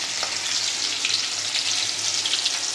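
Bay leaves, garam masala and green chillies fry in hot oil for a tomato chutney, a steady, close, crackling sizzle with light stirring and no talk.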